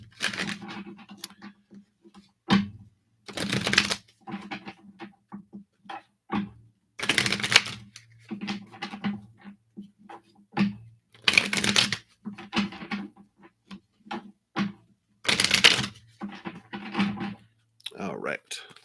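A deck of divine guidance oracle cards is shuffled in repeated crisp riffling bursts, each a second or so long and spaced a few seconds apart, close up, with quieter handling clicks and faint murmuring between them.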